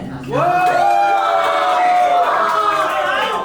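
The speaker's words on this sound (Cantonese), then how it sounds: "觀眾俾聲" Crowd at a Hong Kong yo-yo championship erupts in loud, sustained cheering and high-pitched shouts, rising quickly and holding for several seconds before easing slightly.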